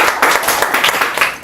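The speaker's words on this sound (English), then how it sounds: "round of applause for Kennedy" A crowd at a talk event claps in a dense, steady round of applause, loud and close.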